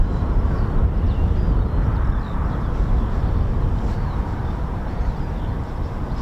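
An F-35B stealth fighter jet passes nearby, a heavy low rumbling roar that stays strong and steady throughout, loud and unaccompanied by talk.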